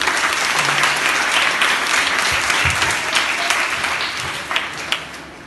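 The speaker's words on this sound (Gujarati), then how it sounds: "તાળીઓ તો પાડો." Applause from an audience of children at a Brahma Kumaris summer camp gathering, a loud sustained clapping that runs throughout and slowly fades near the end, with no talking over it.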